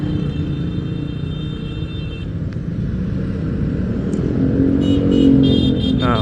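Dense, jammed road traffic at night in Bekasi with cars and motorcycles, a continuous loud rumble of idling and revving engines close by, with a faint horn or two.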